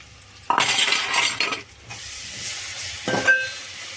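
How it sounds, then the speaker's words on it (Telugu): Ginger garlic paste hits hot oil with fried onions for crab curry, a loud sizzling burst with scraping stirs, then a quieter simmering hiss and a second short flare of frying near the end. "అల్లం వెల్లుల్లిపాయ పేస్ట్ వేసేద్దాం"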